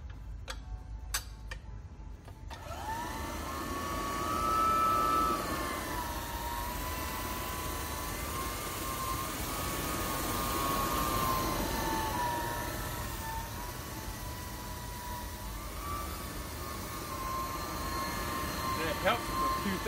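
A 2,000 RPM floor buffer runs over a floor sprayed with degreaser, giving a steady whine with a slowly wavering pitch and swelling loudness, near and continuous after a few sharp ticks at the start.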